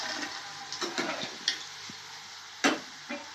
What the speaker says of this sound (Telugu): 4-5 నిమిషాలు వేయించుకోవాలి.